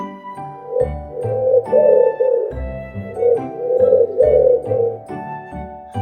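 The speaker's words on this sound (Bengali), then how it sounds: "পায়রাকে ইংরেজিতে বলে পিজিয়ন" Pigeon cooing in soft repeated phrases over a steady musical backing, several low rolling coos close and clear, animated cartoon bird sound in a bird-naming lesson.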